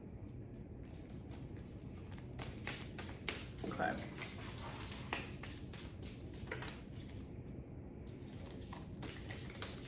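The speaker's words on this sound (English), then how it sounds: "So we're going to put these back and keep shuffling." Tarot cards being shuffled by hand, giving soft, quiet riffling and patting bursts with brief pauses between them, close to the microphone, while a person speaks briefly.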